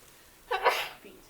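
A single sneeze bursts out in a classroom, one quick breathy explosive sound lasting about half a second, moderately close and standing alone without talk over it.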